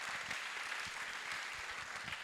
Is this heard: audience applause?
yes